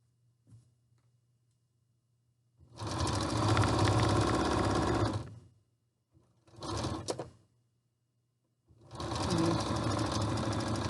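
A sewing machine stitches a seam on an isolation gown sleeve in three bursts, a long run, a short one and another long run, with quiet pauses between and no talk.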